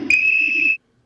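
One steady, high whistle blast sounds close and loud for under a second, then cuts off abruptly into silence.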